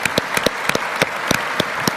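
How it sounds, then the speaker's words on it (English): A conference audience claps in a short round of applause. The claps sound sparse and distinct, sharp hits over a steady crowd wash. "Shall we give them a big round of applause?"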